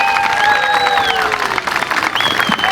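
Audience applause and cheering for a performer called Rayito at a festive anniversary show, a dense crowd roar under a sustained tone from a singing or whistling voice for a few seconds.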